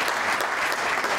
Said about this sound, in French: je vous prie de l'applaudir très très fort